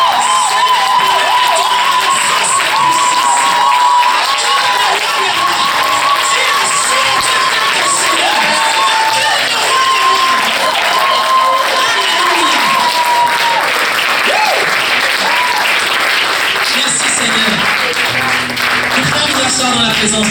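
A church congregation cheers and applauds Jesus Christ: sustained, loud, dense clapping with whoops and shouts that run the whole time, under a voice leading them.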